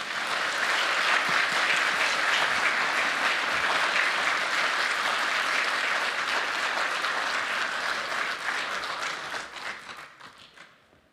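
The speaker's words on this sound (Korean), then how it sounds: "앞으로 나오셔서 귀한 말씀 전해주실 때 큰 박수로 환영해 주시기 바랍니다." A church congregation at a Sunday worship service gives the preacher a big welcoming round of applause, dense and sustained for around nine seconds before fading out.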